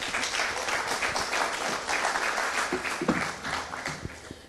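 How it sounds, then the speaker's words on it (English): A conference audience at a blockchain law talk applauds, a steady wash of many hands clapping that thins toward the end with a few louder individual claps standing out. "you can go ahead and give yourselves a round of applause"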